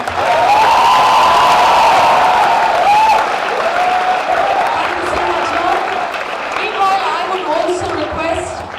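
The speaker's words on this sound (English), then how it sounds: "I want you to give him the biggest applause that you can." A big crowd at a middleweight boxing championship claps and cheers loudly, with whoops early on, then the applause fades gradually over several seconds as chatter and voices come through underneath.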